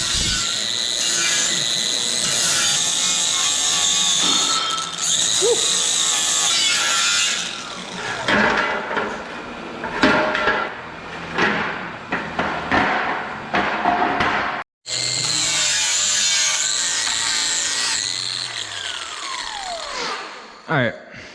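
An angle grinder works along the edges of steel plates being prepared for welding on a metal storage rack, a loud, sustained whine with shifting pitch and brief pauses and drops in load as the disc moves across the metal.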